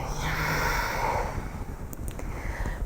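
A long, breathy exhale during a warm-up yoga flow, moving from a mountain-pose rise, sounds close and airy as one continuous rush of breath.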